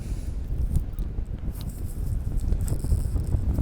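Steady wind buffeting during a paraglider flight along the coast at Granville-Donville, a constant low rushing roar close to the microphone with no talk.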